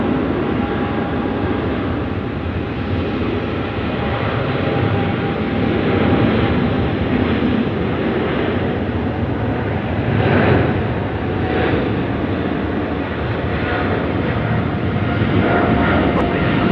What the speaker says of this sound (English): Emirates now cleared for takeoff. Runway 16 right.